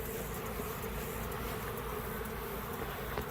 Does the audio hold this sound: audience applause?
no